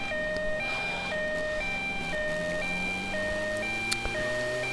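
An ambulance siren from the video game GTA Vice City wails in a steady repeating two-tone cycle, loud and continuous over low engine rumble, with no talk.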